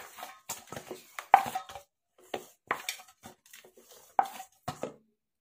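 Hands working dough for carrot kachori in a home kitchen, soft irregular slaps, presses and light knocks against a bowl, close and fairly quiet with gaps between.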